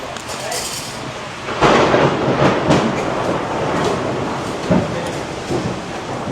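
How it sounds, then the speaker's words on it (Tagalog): Heavy rain pours outside a kunafa fingers cafe as a steady, loud broadband roar with occasional heavier surges, filling the whole stretch without pause. "Rinig nyo ba? Ang lakas ng ulan."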